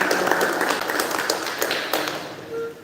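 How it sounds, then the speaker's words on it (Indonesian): Applause and clapping from an audience at the disbanding ceremony of a choir festival committee, a dense wash of claps with a few sharper taps, steady and fairly loud. "Tepuk tangan dulu"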